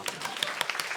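Applause from a church congregation, a brief spatter of scattered clapping.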